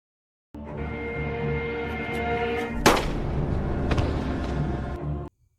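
A single gunshot from the film Falco cracks out near the middle, loud and sharp, over a continuous dramatic music score that runs throughout.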